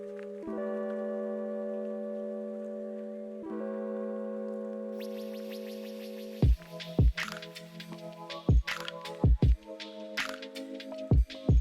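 Boiled potatoes are cut with a handheld cutting tool, giving a series of soft, wet squishing chops and sharp taps in an irregular rhythm, heard alone after a sustained ringing tone fades.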